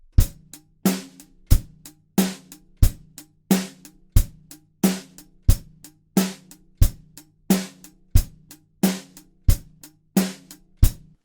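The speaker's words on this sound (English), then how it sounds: "I'll be playing 1 and 3 on the bass drum, 2 and 4 on the snare at 90 beats per minute." A drum kit plays a steady 90 bpm groove: bass drum on beats one and three, snare on two and four, and an accented hi-hat keeping time. The hits are crisp, close and evenly spaced, with no voices over them.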